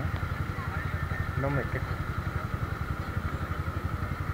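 A 170z motorcycle engine idling, a fast even putter with a clattering mechanical beat, steady and close under someone speaking Spanish.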